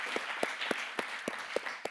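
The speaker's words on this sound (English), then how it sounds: "let's give a round of applause to the panel" Sparse applause for a conference panel: about seven separate claps in a loose, even rhythm, fairly faint against a quiet room and with no talking.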